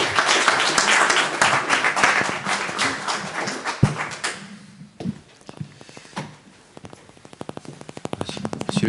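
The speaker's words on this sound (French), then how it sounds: "je crois qu'on peut l'applaudir pour le remercier d'être avec nous" A lecture-hall audience applauds the speaker at a talk on micro-urbanism, a dense wave of clapping that thins and fades, followed by sparse scattered claps and a short rhythmic burst near the end.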